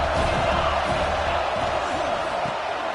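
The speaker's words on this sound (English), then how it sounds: "This crowd trying to make life miserable for this offense." Stadium crowd at a college football game against Notre Dame roars in a steady, dense wash of voices and cheering, loud and continuous throughout with no pauses.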